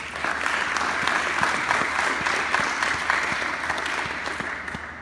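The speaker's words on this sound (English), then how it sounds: "How about another round of applause for him" Steady applause for Deacon Holmes fills a hall at a Young Catholic Professionals gathering, many hands clapping in a dense, even roar with a few distinct nearby claps, tapering slightly at the close.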